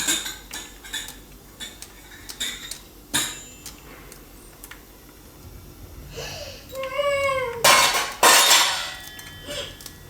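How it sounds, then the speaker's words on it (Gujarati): Metal cutlery and kitchen pots being set in place, a run of sharp clinks and clanks near and fairly loud, with scattered knocks, a louder clatter toward the end, and faint talk in the background. "દીદી વાસણ ગોઠવે છે"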